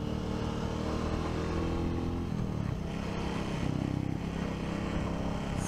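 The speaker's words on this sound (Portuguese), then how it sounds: "Um som bem bacana do motor." A 2023 Royal Enfield Classic 350 Dark Stealth motorcycle engine drones steadily while being ridden. It holds an even, continuous low rumble with a slight shift in pitch midway, and no voices are heard.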